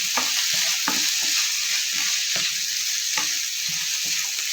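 Prawn thokku being stirred in a pan, a spatula scraping in an irregular rhythm over a steady bright frying sizzle, close and loud with no talk.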